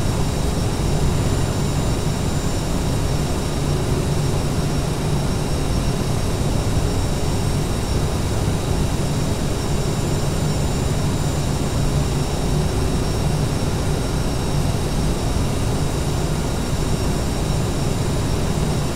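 Engines of an Aerosoft CRJ jet in a flight simulator, a steady loud roar with a constant whine running unchanged throughout and no talk.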